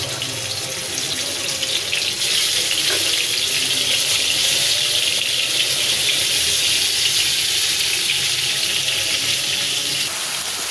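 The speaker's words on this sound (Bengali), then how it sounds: "পরিমাণ মতো পানি অ্যাড করে নেব।" Water pours into a simmering bean and fish curry as a steady, loud, rushing gush that runs unbroken throughout, with faint sizzling beneath it and no talk.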